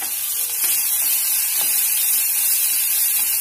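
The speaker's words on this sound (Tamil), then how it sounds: "எண்ணெயும் சூடாயிடுச்சு. நம்ம கட் பண்ணி வச்சுட்டு வெங்காயம் சேர்த்துக்கலாம்." Chopped onions frying in hot oil in a kadai, a steady bright sizzle and hiss with faint stirring clicks, close and constant with no talking.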